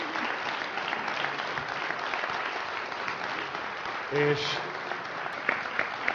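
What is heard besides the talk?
audience applause for a contestant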